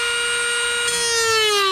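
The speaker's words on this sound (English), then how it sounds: "I'm gonna plug my Dremel in and get to work on this." A Dremel rotary tool runs steadily near at hand, a sustained high-pitched whine with rich harmonics whose pitch drifts slightly partway through, alone without talk.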